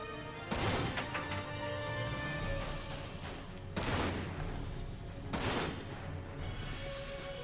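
Gunfire from a sniper rifle in the shooter Dirge of Cerberus: Final Fantasy VII, three loud sharp blasts spaced a couple of seconds apart over a steady bed of game music and ambience.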